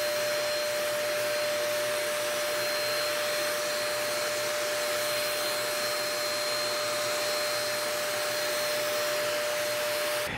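A spray gun applies clear coat to a guitar as a steady, loud airy hiss with a thin constant whine, unbroken for the whole stretch with no talking.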